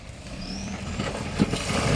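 A 4x4 grinds through mud off-road in the Harvey and Brunswick bush, its engine a steady low rumble that builds slightly toward the end, heard close from inside or beside the vehicle with no talk.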